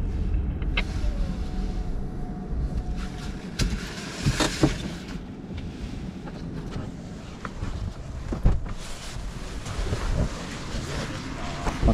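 Car tire road noise while driving, comparing cheap and expensive tires: a steady low rumble of rolling tires with wind buffeting and occasional thumps, continuous throughout with no talk.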